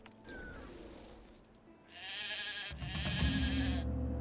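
Sheep bleating in the video game Titan Quest, a couple of wavering calls over low game ambience and rumbling effects, fairly close and moderately loud.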